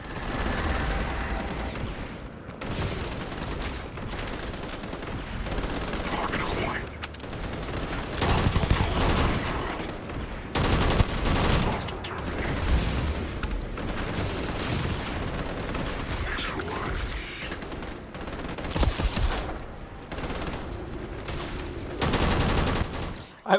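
A battle in the video game Starfield fills the air with rapid, heavy gunfire: repeated bursts of automatic shots and louder booming blasts, close and dense, with brief pauses between volleys and some voices mixed in.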